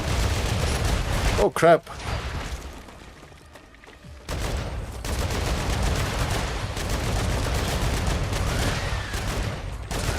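Sniper gunfire in the video game StarRupture: sharp shots and bursts ring out amid game noise, with a brief quiet stretch before the loud firing resumes, while a player exclaims over it.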